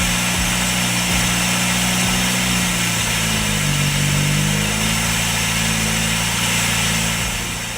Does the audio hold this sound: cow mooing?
no